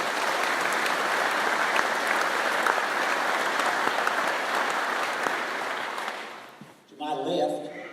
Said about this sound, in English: Please join me in giving a round of applause to our CEOs here.